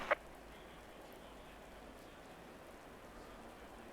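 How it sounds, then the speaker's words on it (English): Steady rain in a racing video game during a GT4 race at Brands Hatch GP, a soft continuous hiss throughout with one brief click near the start and no voices. "it's still raining"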